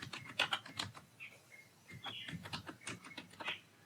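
Clicking keystrokes on a computer keyboard while JavaScript code is typed, an irregular run of close, light taps and clacks with brief pauses between bursts.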